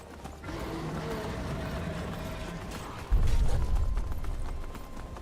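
Horse hooves gallop in the video game Skyrim, a rapid, steady clatter of footfalls over game ambience that grows louder and heavier partway through.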